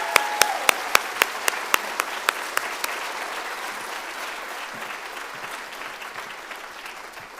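Audience applause for adult and family education staff at a celebration of learning, a dense crowd of clapping with sharp individual claps early on, steady and fairly loud, then thinning slightly toward the end with no talk over it.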